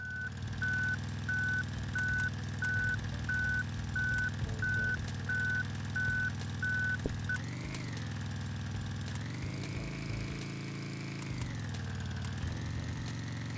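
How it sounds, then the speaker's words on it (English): Reversing beeps from a truck in a video game, a steady evenly spaced series of loud tones over a low idling engine drone, then the beeping stops and the engine revs up and settles, no talk. "Go reverse."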